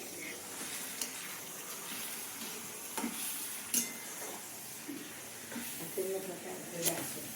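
Chopped tomatoes frying in a pan in a home kitchen, a soft steady sizzle with occasional clinks and scrapes of stirring, heard under conversation.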